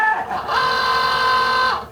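A Cricut Joy Xtra cutting machine slices through a sheet of faux leather, giving a steady mechanical whir that starts after a brief buildup, holds for just over a second close by, then stops.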